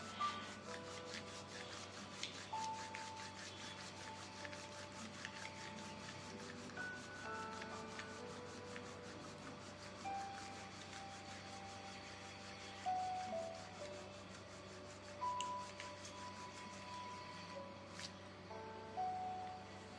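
Wooden sticks rubbed together steadily and close up during a candle wax reading, a continuous scraping friction sound with faint clicks, alone with no talking.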